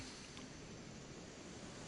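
A waterfall in a golf course design video game gives a steady, even rush of falling water, a broadband wash that holds without a break from start to finish.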